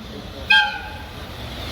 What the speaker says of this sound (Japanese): 一番乗り場をご注意ください。列車が通過いたします。